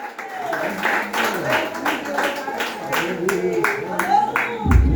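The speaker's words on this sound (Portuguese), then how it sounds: "Assentai-vos com palmas bem alegres para o Senhor Jesus." A church congregation claps together in a steady, lively rhythm for Jesus, with the crowd's beats filling the hall while a preacher speaks over them.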